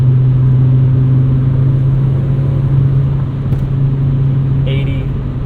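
Steady low engine drone from a manual five-speed Volvo 850 R cruising at 75 mph just above 3,000 rpm, a constant in-cabin hum with road rumble underneath, loud and unbroken throughout.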